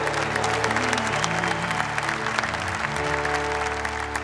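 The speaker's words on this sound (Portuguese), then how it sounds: "aplauda Jesus Eucarístico em todos os sacrários da terra, em todas as santas, aplauda mais forte." Church congregation applauding loudly and steadily during a Catholic worship service honoring the Eucharist, a dense continuous wash of clapping with sustained music or singing underneath throughout.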